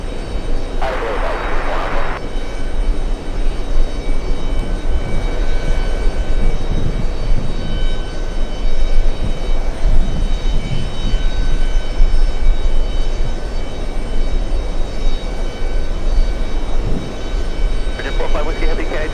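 A British Airways Speedbird airliner on close-up arrival at JFK on a hot summer day, its engine roar a steady broad rumble throughout, with people talking over it.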